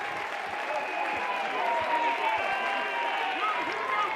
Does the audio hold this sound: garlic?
no